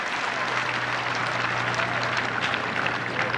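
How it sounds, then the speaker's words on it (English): Cricket crowd at a Test match between England and New Zealand applauding after a delivery, a distant, diffuse patter of clapping across the ground with a low steady hum underneath. "Bairstow there theatrically raises his arms and then urges on the crowd there to applaud"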